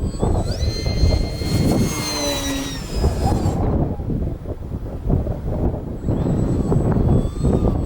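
A HobbyKing Arcus F3A RC pattern plane cruising at partial throttle on a windy day, its motor whine sliding in pitch as it passes, loud and close at first, then dipping and returning.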